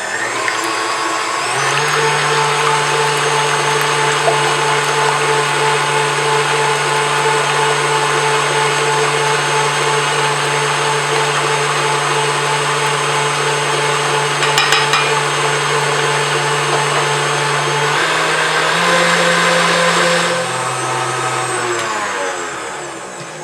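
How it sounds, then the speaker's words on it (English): An electric mixer whips four egg whites with sugar for chocolate mousse, a loud steady motor whine that starts, runs evenly for around twenty seconds with a brief speed change, then winds down; no talking. "the next step is to whip up our 4 egg whites with the sugar"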